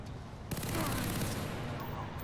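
Gunfire in the Far Cry 3 video game: a sudden burst of rapid shots breaks in and continues as a dense, loud fusillade for about two seconds, with no talking over it.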